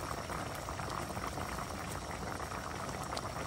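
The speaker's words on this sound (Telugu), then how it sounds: "5 నిమిషాలు ఉడికితే కుతకుతా ఉడుకుతుంది కదా" Okra tamarind stew (bendakaya pulusu) bubbles steadily in a pot, a close, constant boiling hiss with fine popping bubbles, no voices.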